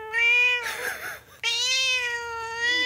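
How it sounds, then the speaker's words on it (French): A cat meowing up close indoors, two long, loud, drawn-out meows with a short noisy pause between them. "Déjà, il y a un chat ici, je vous le montre."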